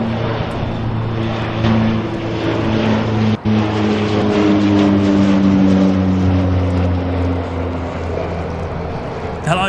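A Rex Airlines propeller aircraft departs Sydney Airport, a loud close droning hum with strong steady tonal buzzing and a brief dropout partway through, heard alone without talk.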